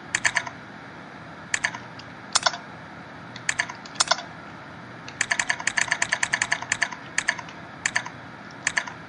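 Typing on a computer keyboard in sharp clicky bursts, single taps and quick runs of keystrokes with short pauses between, close and clear with no talk.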